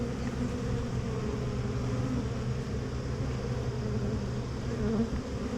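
Honey bees from a queenless swarm hum in a dense, steady drone that stays loud and close without a break and without talk.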